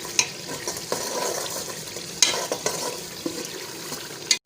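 Dry coriander and spices frying and being stirred in a pan for beef kofta curry, a gentle sizzle under repeated scraping stirs with a few sharp utensil clinks against the pan.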